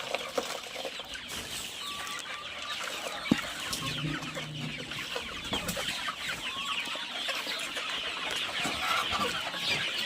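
A flock of native chickens clucks constantly while eating grass, a dense, close chorus of overlapping clucks and cackles over a rustling background.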